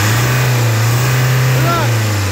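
A car engine revved while its EGR valve is tested, a loud close steady drone that rises briefly in pitch as the throttle is pressed, with a voice speaking over it.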